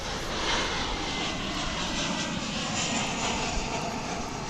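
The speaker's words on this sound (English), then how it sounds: "This flight's coming in from Kansas City, Missouri. American Airlines, of course." American Airlines Boeing 737-800, flight from Kansas City, arriving at DFW International Airport, with a steady broadband engine roar that holds at a fairly even, moderately loud level throughout, no voices.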